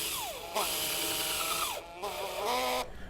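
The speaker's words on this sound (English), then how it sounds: "will mount the patio posts with M8x40 self-tapping screws using a 40 torque screwdriver" A 40-torque power screwdriver drives M8x40 self-tapping screws into patio posts, making close whining bursts. Its pitch sweeps during each run, with short pauses between them.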